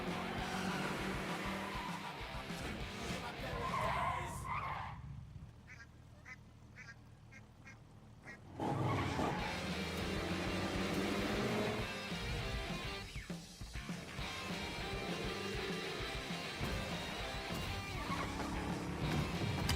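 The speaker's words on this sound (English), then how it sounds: "That was a McLaren." A McLaren Senna in a racing video game drives and skids, its engine roaring with tire screeches, dropping to a quiet lull midway before surging loudly again.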